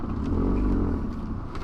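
A car driven with careful clutch control gives a steady low engine drone with a faint rumble, close and continuous, alone without speech.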